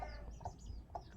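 A chicken clucks a few short times against a noisy outdoor background, fairly faint and at a moderate distance.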